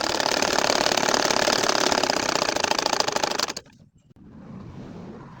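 A domestic sewing machine runs fast and steady, stitching curved lines across a nakshi kantha quilt, its dense mechanical whir stopping abruptly before a quiet room tone returns.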